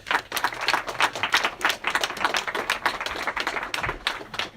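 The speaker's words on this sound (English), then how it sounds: "Please give him a round of applause." A Cambridge University debate audience gives a round of applause for a speaker. The clapping is dense, sharp and close, with distinct individual hand claps rippling across about four and a half seconds.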